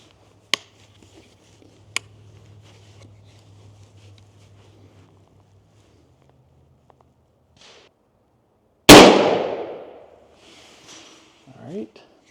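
.410 turkey shotgun firing a Winchester Double X shell at an outdoor range: one loud, sharp blast late in the clip that rings off, after some soft handling clicks and quiet stretches.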